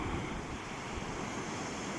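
Mediterranean sea waves on the Spanish coast near a river mouth at night, a continuous wash of surf blended with wind rumble on the microphone, close and steady, with no voices.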